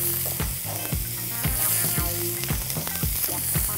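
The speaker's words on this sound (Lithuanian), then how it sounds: "į kaitintą keptuvę pilame alyvuogių aliejaus ir kepiname svogūnus" Onions frying in olive oil in a hot pan, a loud, steady sizzle broken by regular rhythmic scraping strokes about every half second as the pan is stirred.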